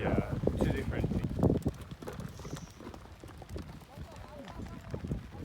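Horses thunder over the ground during a kok boru match in Kyrgyzstan, hooves thudding in a loud rumbling burst that eases into scattered softer beats, with wind buffeting the microphone and people talking.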